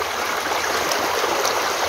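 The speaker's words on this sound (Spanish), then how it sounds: "ustedes pueden ver que el agua está cayendo, viene desde allá" Water flowing down a stream at a farm, heard as a steady, continuous broadband rush close by, with no voices over it.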